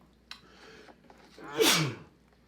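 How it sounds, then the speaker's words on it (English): A single sneeze, moderately loud, follows a faint breathy inhale, with quiet background around it. "Your boy had to sneeze a couple times."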